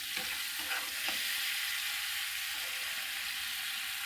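Food sautéing in oil in a pan, a loud, even hiss of frying that runs throughout, with a few soft stirring scrapes near the start and no talking.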